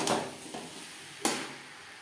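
Fish roe being stirred into potatoes in a pan over a high flame: two short, scraping strokes of a spatula, one near the start and one near the middle, over quiet background.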